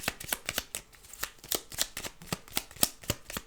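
Tarot cards are shuffled for a reading in quick, close, crisp riffling taps, about a dozen sharp bursts in a steady rhythm, with no talk.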